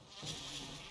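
Bees buzz in Resident Evil HD Remake, a brief steady droning hum that swells slightly and sits faint in the background.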